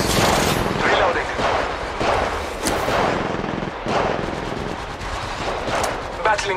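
Rapid automatic gunfire in the shooter game Apex Legends rattles in loud, dense bursts with booming impacts throughout, while a voice is heard faintly amid the shooting.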